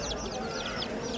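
Hens cluck amid the crowded, noisy din of a large chicken market in Bursa, with overlapping bird calls and people talking in the background throughout the short stretch.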